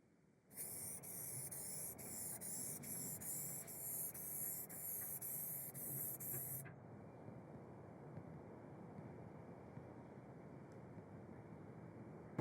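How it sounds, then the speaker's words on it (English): Lacquer sprayed from an aerosol can for a spot repair flash coat, a steady close hiss lasting about six seconds that stops abruptly, followed by quiet room tone. "I sprayed 3 more coats of the Lacquer Shot"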